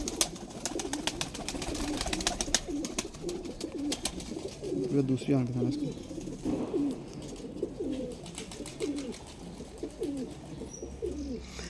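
A bataira pigeon of the Ali line in a breeder's loft coos in repeated soft, low bubbling phrases close by, with someone talking over it.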